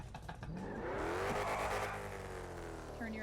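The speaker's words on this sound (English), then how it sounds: "Turn your engine off, sir." A car engine drones in a video game police-roleplay scene, a sustained close engine tone with a rising pitch sweep in the middle and no pause across the short stretch.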